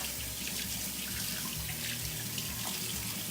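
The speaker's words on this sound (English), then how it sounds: "I'm going to wash my hands again." Tap water runs steadily into a sink as hands are rinsed after handling chicken with soap and bleach, a continuous close splashing hiss with no talking.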